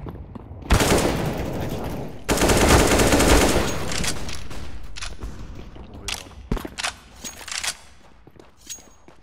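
Rapid bursts of gunfire from the CS:GO competitive shooter, loud and dense at the start, followed by scattered sharper single shots and clicks tapering off toward the end.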